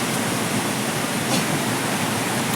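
A waterfall rushes behind a tea stall in Manali, a steady broadband roar of falling water filling the whole stretch at even loudness.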